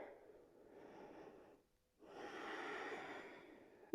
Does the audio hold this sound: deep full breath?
yes